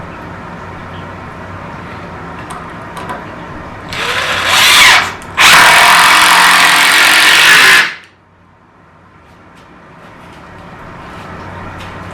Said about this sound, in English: We're going to go ahead and install our 4 posts to keep it standing. So I'm just going to go ahead and start screwing them in.